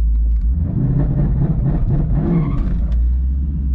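A 2019 twin-turbo Ford Mustang floored from a launch, its engine roaring loud and close in a sustained full-throttle pull, with a steady low rumble and rising whir throughout and no talk.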